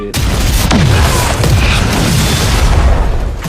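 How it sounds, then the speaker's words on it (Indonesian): A heavy, booming explosion inside a warehouse erupts with a sharp onset and keeps rumbling loudly for several seconds, with a dense roar of debris and reverberation. "suara ledakan besar pun mengguncang isi gudang"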